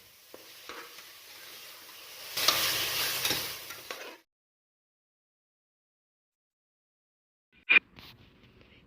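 Tomatoes, onions and ginger garlic paste sautéing in a pan for vegetable biryani, close sizzling and stirring that swells then cuts off, followed by silence and a couple of sharp utensil taps.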